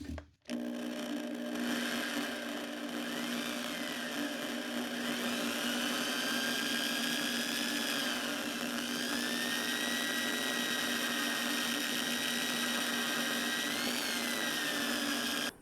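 Power drill spins a wooden egg while paste wax is buffed on, a steady close whine holding for the whole stretch with slight pitch shifts under load and no talking.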